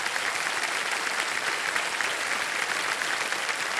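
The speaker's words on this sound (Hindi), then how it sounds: "एक बार जोरदार तालियां बज जाए हिमांशु जी के लिए" Studio audience applause on the set of the quiz show Kaun Banega Crorepati, dense continuous clapping at an even level, filling the space without talk.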